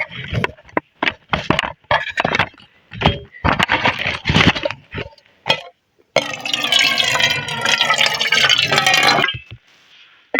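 Water is poured into a pot to cook rice at a snowy winter campsite. Someone speaks first, then a continuous splashing fill runs for about three seconds and stops.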